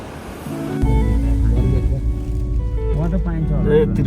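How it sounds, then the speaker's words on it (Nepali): Strong wind roars steadily at Tripura Sundari in Dolpa, a loud, close rumbling gust that buffets the microphone throughout, with a voice talking over it. "भयानक विशाल विशाल हावा चलिरहेको छ यहाँ"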